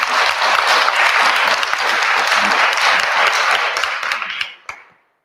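Audience applause at a language-teachers' meetup, a dense, steady burst of many hands clapping that holds for several seconds and then fades out quickly with a few last claps.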